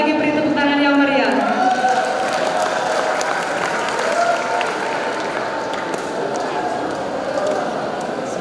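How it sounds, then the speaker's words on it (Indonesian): Audience applause fills a school student council debate hall, a broad steady clatter of many hands sustained throughout, with a voice briefly audible at the start over the crowd noise. "Sekali lagi beri tepuk tangan yang meriah."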